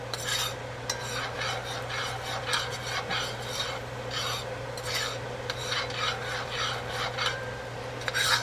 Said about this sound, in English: with a roux, you gotta keep stirring